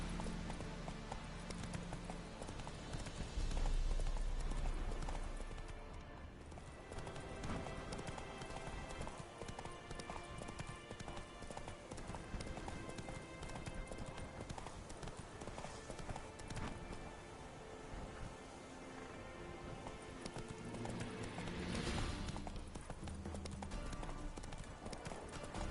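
A horse in The Witcher 3 video game galloping with a dense, steady clip-clop of hooves under loud game music and ambience, continuous throughout.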